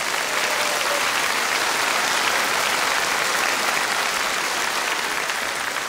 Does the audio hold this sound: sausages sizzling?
no